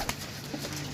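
Soft pigeon cooing in a low, murmuring tone, fairly faint and steady with a brief louder burst near the start.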